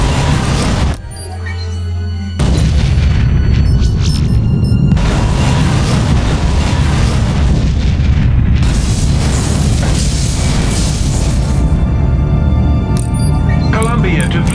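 A Romulan ship explodes in Star Trek Legacy, a loud, sustained, rumbling blast that swells and roils for several seconds after a brief lull, thick with crackling debris amid the space-battle game's noise.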